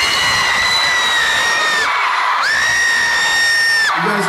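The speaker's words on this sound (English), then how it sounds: "you guys cheer like I just did something sexy" A hot indoor concert crowd at a show cheers and whoops, shrill sustained screams and yells in long loud waves, one swell cutting off briefly before another rises and holds.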